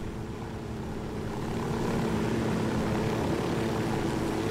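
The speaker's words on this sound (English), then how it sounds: "So now we're in a helicopter." Helicopter with a small single-engine turbine flying in Ghost Recon Wildlands, a steady droning rotor and engine hum that swells slightly and holds loud and close throughout, with no talk over it.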